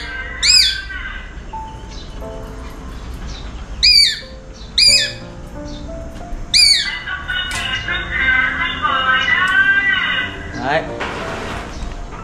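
A pet bird gives four or five loud, sharp squawks in short bursts, spaced a few seconds apart, over a busy indoor background with people talking.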